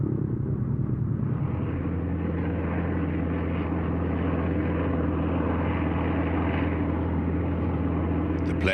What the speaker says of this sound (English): The plane lifted quickly off the ground.